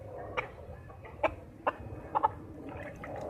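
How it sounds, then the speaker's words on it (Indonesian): A chicken gives several short clucks in an irregular sequence, near and moderately loud, over a low background hum with no talk. "Ayam namanya kan tuh Ivar"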